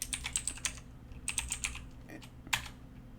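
Rapid keystrokes on a computer keyboard as a command is entered in a Linux terminal, sounding as several close bursts of clicking separated by short pauses, with no talking.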